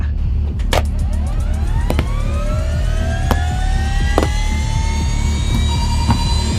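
Helicopter taking off, a loud rising engine whine whose tones climb steadily in pitch over a heavy low rumble, with intermittent sharp clicks and bangs, no talk.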